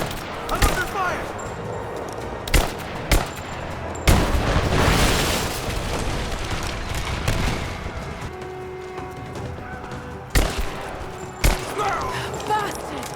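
Gunfire in the Rise of the Tomb Raider video game: sharp shots and bursts cracking at irregular intervals, with a long rumbling volley in the middle, mixed with game noise and shouted voices.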